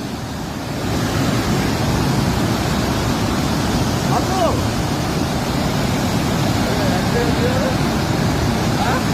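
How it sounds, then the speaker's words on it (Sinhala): Fast-flowing flood water rushing in Sri Lanka, a steady loud broadband roar like surf that runs the whole time, with faint voices talking over it. "ඔය කී කොච්චර වේගයක වතුර වැටෙන්නේ නැද්ද නේ?"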